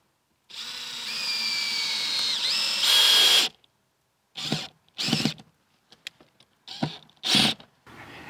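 A power drill drives a screw that will hang a new breaker box in a Victorian house, a close, loud whirring run of about three seconds followed by several short bursts and pauses.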